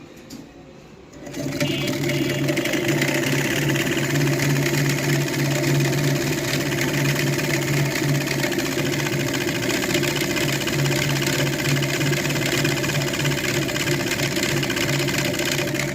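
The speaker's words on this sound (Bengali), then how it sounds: "আমরা এখন দেখি কয়েল বাঁধাই করি।" A coil winding machine winds a 300-turn coil, running loud and steady with a mechanical hum and whir after a brief quieter start, with no talking.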